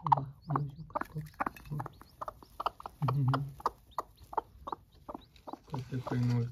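A hen pecks at feed on a small backyard farm, giving repeated short clucks in an irregular rhythm, close and fairly loud, with a few busier bursts of clucking.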